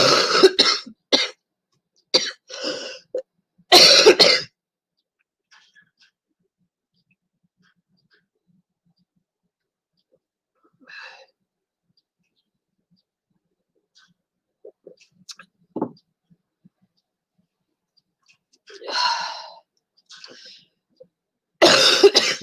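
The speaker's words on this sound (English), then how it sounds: "I'm at the coughing stage." A person who is ill coughs repeatedly in a quiet room, with a cluster of loud, close coughs at the start, scattered faint throat noises in the middle and a few more coughs near the end.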